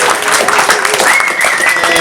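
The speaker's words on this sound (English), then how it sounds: "Can I get a round of applause for Joe and the entire venue, please?" Applause from an audience at a tribute event, steady and dense through the short stretch, with a voice or tonal sound rising over it partway through.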